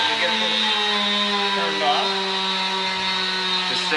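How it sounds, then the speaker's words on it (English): A drill whines steadily and close while boring holes in a leather holster, its motor pitch dipping briefly midway and then recovering, with no pauses. "I'm going to drill some holes"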